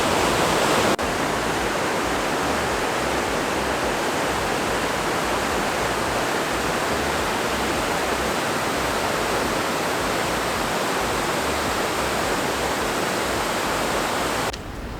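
A rushing underground river in Jasper National Park roars in a steady, dense wash of water noise for the full stretch, loud and close, with no voices over it.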